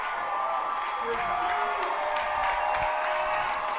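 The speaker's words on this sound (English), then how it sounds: "I'm feeling Halen's going to get a nice round of applause as he comes up the stairs here too." Applause and crowd noise fill a stadium at a 3A state high school football tournament game, a steady dense wash of clapping and cheering heard from a distance with a voice talking over it.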